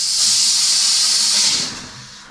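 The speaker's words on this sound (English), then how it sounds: "There is going to be some air in the line, so I'm going to let that out" Trapped air hisses loudly and steadily out of a newly installed water line into a catch bucket, holding strong for about a second and a half before tapering off toward the end.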